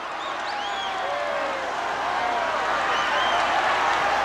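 Large boxing arena crowd roaring during Muhammad Ali's first fight with Ken Norton, a broad sustained swell of cheering with whistles and shouts under it, rising slightly toward the end.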